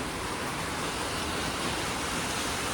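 Heavy rain keeps falling in a dense, even hiss and rumble, steady and moderately loud throughout, with no talking.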